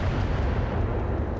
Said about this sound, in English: I think we're going to fire an incendiary here.